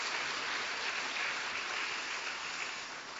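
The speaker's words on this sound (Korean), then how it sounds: "우리 박수로 한번 축하하겠습니다." A church congregation applauds together after an infant baptism during Sunday morning worship, a soft, steady wash of clapping that holds evenly for a few seconds, moderately distant.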